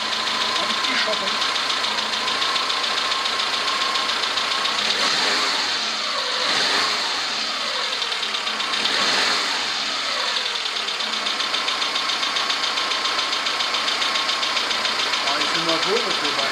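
Suzuki Santana SJ413 engine idling steadily after a restart, a close mid-pitched running rumble with slight knocking and a couple of revs, while someone talks over it.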